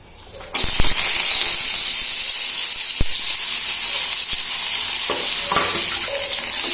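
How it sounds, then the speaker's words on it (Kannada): Spice ingredients for vangi bath dry-frying in a spoonful of oil, a loud steady sizzle that starts abruptly after half a second and holds with scattered stirring scrapes and clicks, no voices. "ಆ ಪದಾರ್ಥನ ಇವಾಗ 1 ಸ್ಪೂನ್ ಎಣ್ಣೆ ಹಾಕಿ ಅದನ್ನ ಫ್ರೈ ಮಾಡ್ಕೊತಾ ಇದ್ದೀನಿ ಡ್ರೈ ಆಗಿ."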